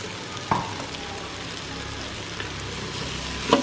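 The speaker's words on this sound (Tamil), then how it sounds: "அதை போட்டு அதை கிண்டி விடுங்க" Vegetables with ground coconut and fennel paste fry in a pan, a steady close sizzle with a couple of soft clinks of stirring over a few seconds.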